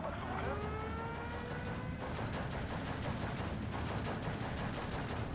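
Artillery shells, 150 mm to 155 mm guns, falling in the WWII video game Steel Division 2: dense, continuous rolling bursts and crackling blasts packed together for several seconds. A faint whine fades out early.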